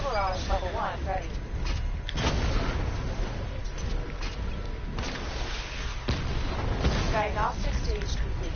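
Missile barrage explosions in the video game Batman Arkham Knight, repeated booming impacts and rumbling blasts running throughout, mixed with game voices and someone talking over them.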